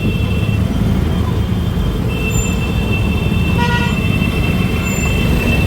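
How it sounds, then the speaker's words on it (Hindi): Short blasts of a large vehicle's horn sound over steady road traffic rumble during the Kanwar Yatra pilgrimage at Sultanganj, the honks fairly distant against a loud, continuous engine and road noise bed. "ओ भाई बड़ी गाड़ी आ रही है लग रहा है।"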